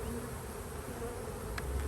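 Honey bees from a late-season swarm catch buzz in a low, continuous drone, close and steady, with a faint higher whine passing near the end.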